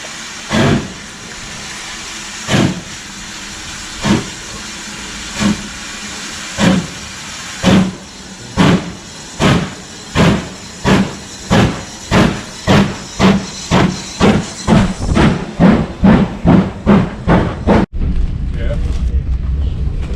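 Steam locomotive on the Keighley Worth Valley Railway chuffs in sharp, regular bursts that speed up steadily, then a sudden loud, continuous hiss of steam takes over near the end.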